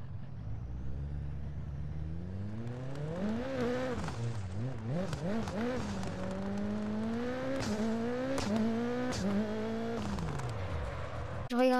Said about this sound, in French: je vous laisse écouter le bruit de la voiture